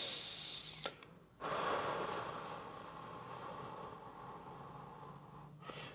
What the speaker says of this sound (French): La première façon de respirer, c'est de respirer de façon profonde.